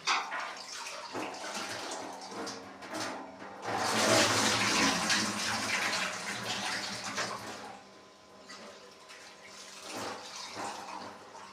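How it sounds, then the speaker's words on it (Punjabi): Chickpeas are washed by hand in water, giving close sloshing and splashing with a louder churning burst in the middle, then quieter swishes and trickles. "ਹੁਣ ਆਪਾਂ ਫੇਰ ਹੀ ਭਿਉਂ ਲਾਂਗੇ ਧੋ ਲਾਂਗੇ ਕਈ ਪਾਣੀ ਕੱਢ ਲਾਂਗੇ ਇਹਦੇ ਵਿੱਚੋਂ"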